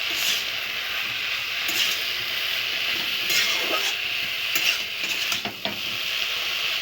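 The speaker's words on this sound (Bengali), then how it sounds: "দিয়ে এবার একটু নেড়ে চেড়ে আমি একটুখানি কষিয়ে নিচ্ছি" Spices with ground cumin are stirred and sautéed in a pan, a loud continuous sizzle with repeated scraping strokes of a spatula growing busier toward the end; no speech.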